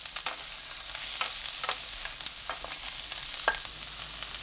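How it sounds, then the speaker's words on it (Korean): Potato, zucchini and onion stir-fry in oil in a pan, giving a soft steady sizzle punctuated by repeated scraping stirs, fairly quiet and close with no talking. "애호박 양파 넣고 1분 볶아주세요."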